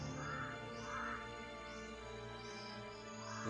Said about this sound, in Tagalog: parang ang dami talagang uwak na nakapaligid sa itaas